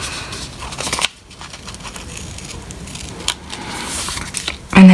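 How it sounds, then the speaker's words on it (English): Scissors rounding off the corner of a paper animal bookmark, heard as short crisp snips and crackles that come and go for a few seconds, closing in a louder burst. "Take your scissors, round off the corner."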